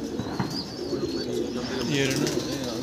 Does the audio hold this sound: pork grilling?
no